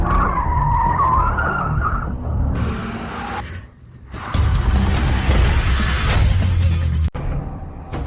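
A fast car skids with loud, sustained tire squeals and engine roar. A brief near-silence falls midway before the squealing and rumble return, close and intense.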